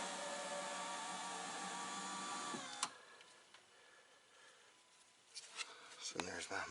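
A car power window motor, run from Hellcat window controls, whirs steadily for a few seconds, then stops with a clunk, followed by quieter rustling and a couple of faint knocks.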